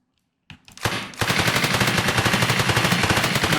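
Automatic gunfire sound effects in an Unreal Engine 5 third-person shooter game: a brief pause, then a sustained rapid burst of loud, evenly spaced machine-gun shots with no talking.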